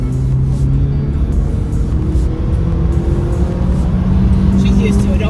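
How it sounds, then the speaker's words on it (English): A 2015 Honda Accord under hard full-throttle acceleration, heard from inside the cabin as a steady low engine drone and road roar, with a driver's voice talking over it. "I'm gonna do a pretty hard acceleration. I'm gonna floor it."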